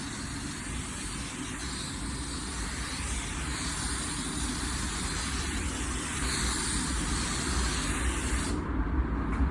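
A spray gun lays a slow drop coat of metallic paint on a car, producing a constant loud broadband hiss that holds evenly for several seconds before stopping abruptly at the end.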